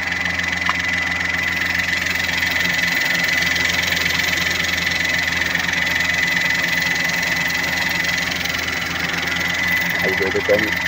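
A Peugeot 301 petrol engine idles steadily close by with a constant mechanical hum and light rattle, recorded during a timing chain replacement.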